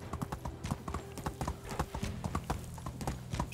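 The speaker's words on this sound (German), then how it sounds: "dann reiten wir hier runter raus" Horse hooves clip-clop in a quick, steady rhythm as a rider travels in the video game Medieval Dynasty, close and clear, with a faint whinny mixed in.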